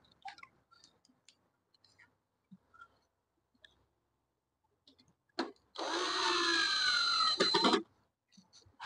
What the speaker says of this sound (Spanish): Le vamos a poner ahí sus tornillos.